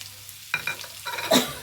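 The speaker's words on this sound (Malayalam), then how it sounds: "ഇത് നല്ലോണം ഒന്ന് വഴറ്റിയെടുക്കണം കേട്ടോ" Chopped onion is sautéed in a hot pan, with close, distinct sizzling and a few scraping stirs in short bursts, and no talking.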